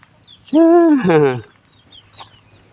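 A chicken gives a loud, drawn-out squawking call, two quick rising-falling notes close by, then quiet with faint background sounds.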